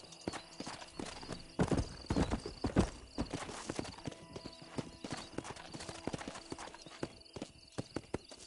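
Horse hooves clip-clopping at a gallop in the Western video game Red Dead Redemption, a steady rhythmic pounding with occasional louder bursts, close and prominent, with a brief whinny.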